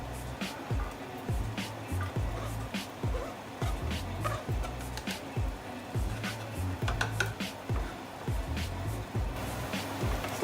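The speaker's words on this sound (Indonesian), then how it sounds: "gue akan tumis si bawang bombaynya" Onions sautéing in a pan for salmon fried rice, a steady sizzle with repeated knocks of a spatula against the pan in an irregular rhythm, moderately close.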